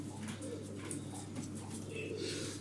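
Miro pigeons coo softly in a loft, faint repeated low calls over a steady background hum.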